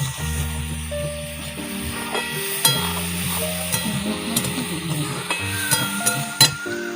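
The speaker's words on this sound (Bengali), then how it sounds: "মাংসের ক্ষেত্রে আমরা একটু ভালো করে ভেজে নেব" Meat sizzles steadily in a hot pan for Indian-style chow mein while a utensil stirs it, with occasional metallic clinks and scrapes against the pan over a continuous frying hiss.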